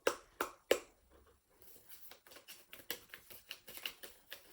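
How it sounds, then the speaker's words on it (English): Crisp flapping and riffling of oracle cards being shuffled, a few sharp snaps at first, then a quicker run of soft rhythmic riffles, close by. "just going to give them a shuffle"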